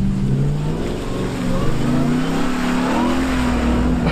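A 2021 Ram TRX pickup truck drives hard off-road over a stretch of whoops, its engine droning loudly and continuously with rising revs, no voices present.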